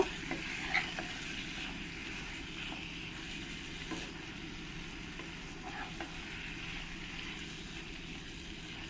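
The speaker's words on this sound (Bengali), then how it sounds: "তুলে দিয়ে আর একবার ভালো করে আমি নেড়ে দেব।" Mutton curry with potatoes is stirred in a pan, a continuous close sizzle of frying broken by scraping strokes and occasional soft clinks of the spoon against the metal, with no talking.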